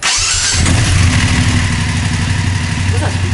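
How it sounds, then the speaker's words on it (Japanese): BMW F750GS motorcycle engine starting up: a short starter crank followed by the parallel-twin catching and settling into a loud, steady idle close by. "そしたらエンジン始動"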